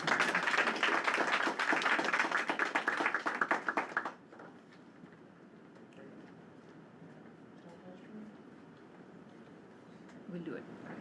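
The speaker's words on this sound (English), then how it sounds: "Final round of applause for Mallory." An audience at a symposium on social determinants of health and place gives a final round of applause, with dense, loud clapping for about four seconds, then fading into a quiet room with faint talk.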